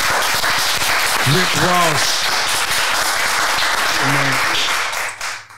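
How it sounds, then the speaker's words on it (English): Studio audience claps and applauds loudly for an interview guest, a dense continuous wash of hands with someone speaking briefly over it, then fading out at the end. "Let's clap it up, man, for a real love"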